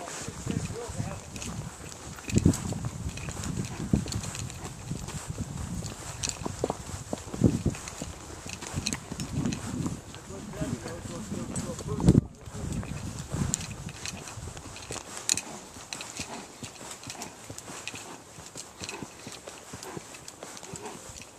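Horse hooves clip-clopping at a walk while being ridden, steady irregular thuds close by, with people talking over the hoofbeats.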